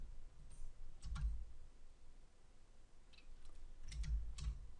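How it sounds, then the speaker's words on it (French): A few faint, quiet clicks come from computer keyboard keys pressed in short pairs, including the Enter key, with soft room hiss between them. "J'appuie sur Entrée."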